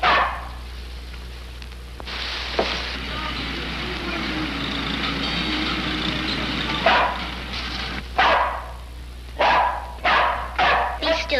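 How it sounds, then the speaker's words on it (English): A dog barks in short, loud bursts across a 1946 film noir scene, the barks clustering near the end, while voices speak over a steady low hum. "For the love of Mike, keep that dog quiet"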